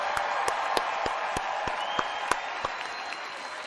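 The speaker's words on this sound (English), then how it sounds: "let's give a big another round of applause for the WWE." Crowd applause for the WWE at a pediatric cancer charity moment, steady clapping with sharp individual claps standing out, moderately distant and continuous.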